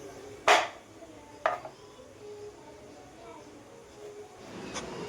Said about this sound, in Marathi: आपण ही कैरी कट करून घेऊया.